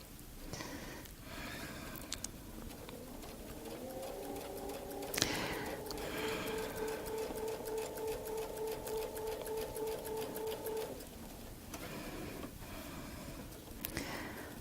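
A domestic sewing machine stitches a Baptist fan quilt with a template, running in one steady rapid burst of several seconds, preceded and followed by quiet handling of fabric.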